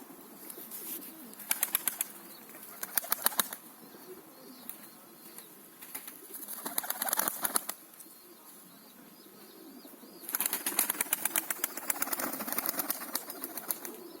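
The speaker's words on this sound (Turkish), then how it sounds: "bir tane daha kuşum var tek uçacak. Onu atacağım." Pet pigeons flap their wings in several bursts as they take off outdoors, with coos and soft bird calls between the flurries, fairly close and without talk.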